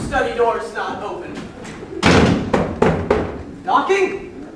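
Loud knocks and thumps on a door during a high school stage production of the farce Noises Off, a cluster of heavy raps in quick succession amid actors' speech on stage.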